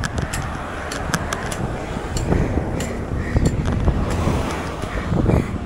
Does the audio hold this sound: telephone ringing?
no